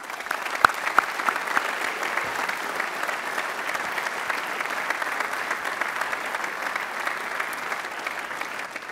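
A school awards ceremony audience gives sustained, even applause, a dense close wash of clapping that keeps a steady level throughout with a few sharper individual claps near the start.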